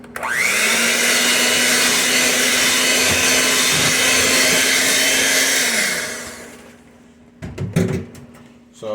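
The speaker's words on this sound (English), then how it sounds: "I'm gonna get this blended about again" A blender whirs a French toast mixture, spinning up sharply, then roaring steadily and loud for about six seconds before winding down. A few sharp clunks and clatters follow in the quiet.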